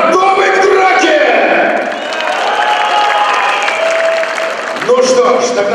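A large audience applauds loudly at a fight show, dense continuous clapping mixed with crowd cheers and shouts, holding steady for several seconds before a short swell near the end.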